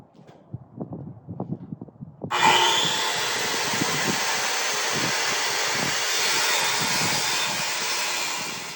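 A saw, apparently a power saw, makes a single continuous pass through wood for a drawer front, starting abruptly after a couple of seconds of faint workshop knocks and running loud and steady to the end.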